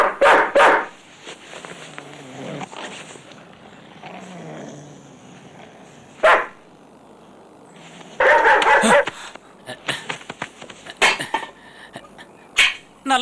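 Several dogs bark in loud, separate bursts at intervals, set in a dramatic fight scene where a captive is threatened with being left among them.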